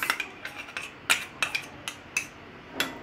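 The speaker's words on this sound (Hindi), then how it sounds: "इन तीनों को एक बाउल में अच्छे से मिक्स कर लें" Three pizza sauces, Schezwan, pizza pasta and tomato, are mixed together in a bowl, with a spoon making a string of light, irregular clinks and taps against the bowl's side at close range.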